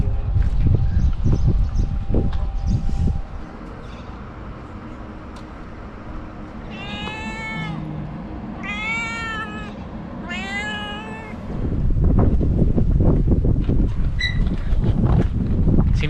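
A cat at an old boat-parts factory by the docks meows three times in drawn-out, wailing calls, heard amid outdoor wind and rustling noise that swells louder afterward.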